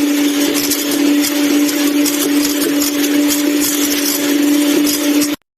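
Pancake batter mixed with milk in an electric blender, giving a loud, steady motor whir with a constant hum that runs unbroken for over five seconds and then cuts off abruptly.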